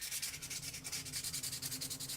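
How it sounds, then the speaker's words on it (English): Light wet sanding on a plastic model kit for a Slingshot 3-wheeler kitbash: steady, close, rhythmic rubbing strokes repeat evenly with a soft gritty hiss and no talking. "just a little bit of light wet sanding"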